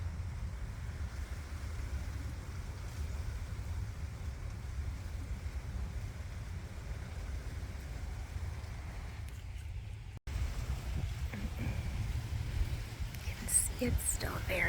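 Strong wind rushes and buffets the microphone outdoors at a beachside campground at Fort De Soto, a steady roar that briefly cuts out near the end, then resumes with a few faint rustles.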